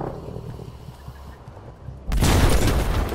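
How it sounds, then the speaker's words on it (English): Rocket airstrike explosions from a JB2 strike in the Battlefield V video game: low battlefield ambience gives way to a sudden loud, heavy blast that keeps roaring and rumbling to the end. "We now require a JB2 airstrike at this location"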